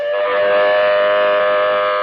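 A loud British civil defence warning siren wails steadily, a sustained rising-and-holding tone with no speech.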